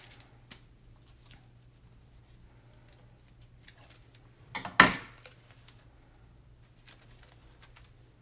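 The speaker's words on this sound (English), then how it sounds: "So I'm going to cut some washi that comes in your DigiKit" Scissors cut washi tape at a craft table, a single sharp snip standing out from faint handling clicks and rustles in a quiet room.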